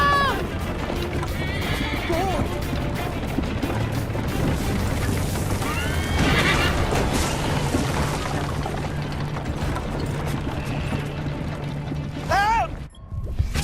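In the video game Assassin's Creed Liberation, a horse gallops with loud, rapid hoofbeats and gives several shrill neighs and whinnies, among game clatter and mechanical noises, with characters shouting at times.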